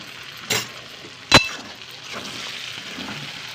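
A masala of tomato and red chili powder fries in a pan under a soft continuous sizzle, with two sharp stirring clinks of a spoon against the pan near the start.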